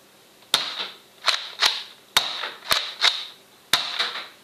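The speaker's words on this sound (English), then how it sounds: "Looks like this first shot's going to rotate us through, and then we'll start firing." A Nerf Rebelle crossbow blaster with a rotating cylinder fires foam darts in a steady series of about seven sharp, loud snapping shots close by, each with a short mechanical rattle after it, and no talk.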